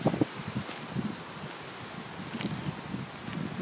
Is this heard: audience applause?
no